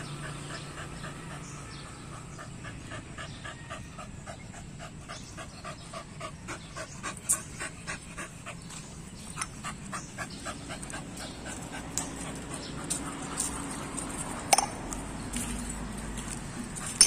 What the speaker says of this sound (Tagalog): Ay, lumapit ng aso.